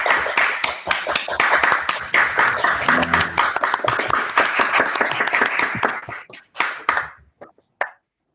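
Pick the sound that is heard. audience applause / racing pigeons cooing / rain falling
audience applause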